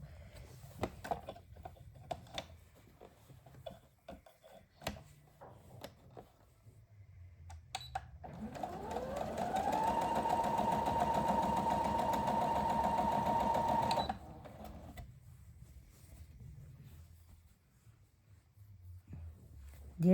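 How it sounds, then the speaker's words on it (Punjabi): A sewing machine stitches a reversible patka slowly around a curve, its motor winding up into a steady whirring run for several seconds, then stopping abruptly, with quiet handling noises before and after. "ਇਹ ਮੈਂ ਜਿਹੜੀ ਹੈ ਨਾ ਮਸ਼ੀਨ ਹੈ ਬਿਲਕੁਲ ਸਲੋ ਕਰਕੇ ਸਿਉਂ ਇਹਨੂੰ ਕਿਉਂਕਿ ਉਰੇ ਇਹ ਗਲਾਈ ਆ"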